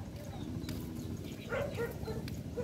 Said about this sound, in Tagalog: May aso, umuungol.